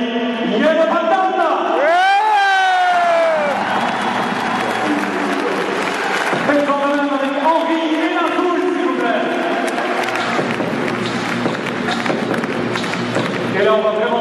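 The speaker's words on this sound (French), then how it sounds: "Je me réjouis d'entendre l'acclamation, le bruit que vous allez faire pour accueillir Yves Dufour." A crowd welcomes player Yves Dufour with loud, sustained cheering and clapping that fills the whole stretch. Rising whistle-like tones stand out early, and voices mix into the roar.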